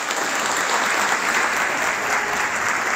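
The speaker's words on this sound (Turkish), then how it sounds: "Onlara büyük bir alkış alalım mı hep beraber başlamadan?" A crowd at a Republic Day celebration claps loudly and steadily in dense, sustained applause with no break.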